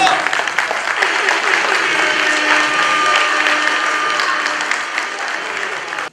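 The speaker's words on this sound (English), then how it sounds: "A round of applause, please." Loud, sustained applause from a crowd at a charity gala, dense clapping continuing steadily for several seconds before cutting off abruptly.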